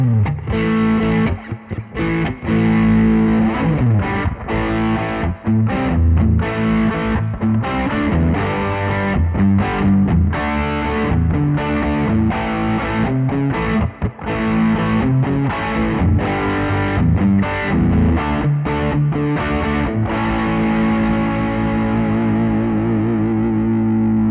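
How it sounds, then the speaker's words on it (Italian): Heavily overdriven electric guitar plays chunky rock riffs with short palm-muted stops, loud and continuous for over twenty seconds before ringing out. "Sentiamo invece un overdrive un po' più stile rock."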